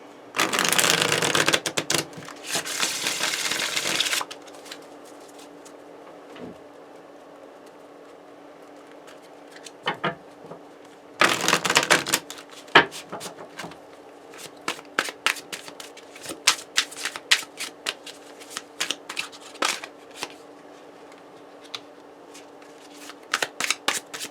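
Tarot cards are shuffled by hand in two loud riffling bursts, with scattered softer card taps and flicks in between.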